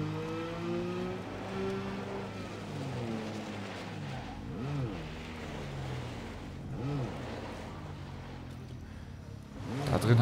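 A vehicle in the video game Borderlands 3 drives along with a quiet, continuous engine drone that rises and falls in pitch as it speeds up and slows down, ending with a louder burst.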